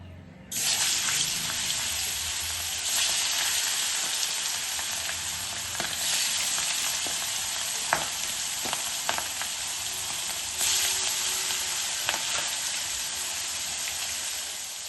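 Ritha fish frying in hot mustard oil in a kadai, a loud steady sizzle that starts abruptly and runs throughout, with occasional sharp pops and crackles.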